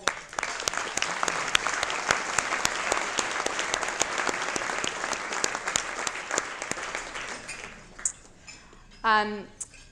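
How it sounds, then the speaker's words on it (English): A lunch audience applauds at a downtown business luncheon, with dense, sustained clapping that fills most of the stretch and then fades. A brief clink of dishes and a short vocal sound follow near the end. "A round of applause for that."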